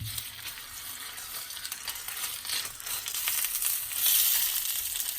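Sausages fry in a tablespoon of oil in a pan, a steady close hiss and crackle that swells slightly louder toward the end.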